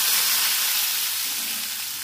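Bitter gourd pieces frying in hot oil give a loud, close, steady sizzle that fades slightly toward the end, with no voices over it.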